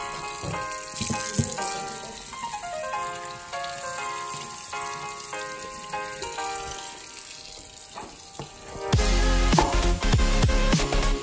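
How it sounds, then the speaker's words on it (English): Hot water poured over a block of ice encasing an iPhone XS, a steady splashing pour under background music that swells louder near the end. "So let's go ahead and pour some hot water on it so we can melt the ice away."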